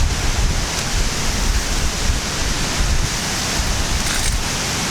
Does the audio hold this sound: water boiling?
yes